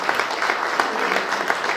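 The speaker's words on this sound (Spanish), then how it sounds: "Un aplauso a nuestra mamita hermosa." An audience at a Lenten religious talk claps steadily, a dense, even wash of applause from a crowd filling the room, with no pauses.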